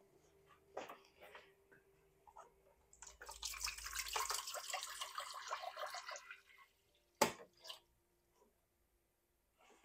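Distilled water pours steadily into an autoclave for a few seconds, a soft splashing rush, followed by a couple of faint knocks and clicks.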